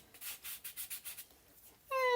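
Electric sander buzzing in short rhythmic pulses while sanding a wooden tray, about seven strokes, then a brief pause before a high whining tone begins.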